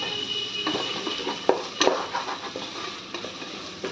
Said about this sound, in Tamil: அதையுமே நல்லா கலந்து விட்டுடலாம்.